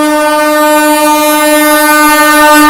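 A superfast train sounds its horn on the main line, a loud, steady multi-tone blast held throughout, with no talk.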